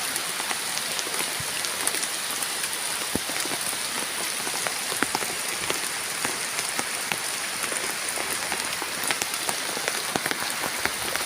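Heavy rain pours down steadily on a sugarcane field, a dense hiss with scattered sharper drops pattering on nearby surfaces; no talking.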